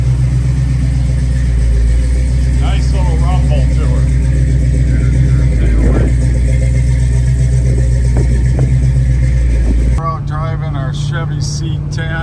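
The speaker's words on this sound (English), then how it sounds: "Chevy C10, cruising about 55." A 1985 Chevrolet C10 shortbox pickup with headers and 20-inch tires cruises at about 55 mph, its steady engine drone and road rumble continuous throughout, with voices talking over it.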